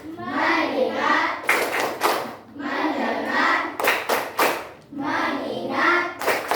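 Children in a classroom play a rhythmic focus clapping game, chanting phrases in unison that alternate with short bursts of sharp, group handclaps in a repeating pattern.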